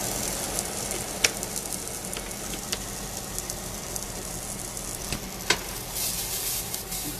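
A breakfast mixture with baking protein and cinnamon sizzles steadily in a pan, broken by occasional scraping clicks of a utensil stirring it, close and alone without talk.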